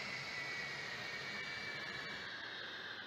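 A jet engine in a VR Chat flight simulation roars as a steady, dense broadband wash, its upper hiss thinning slightly toward the end as the engine winds down. No voices.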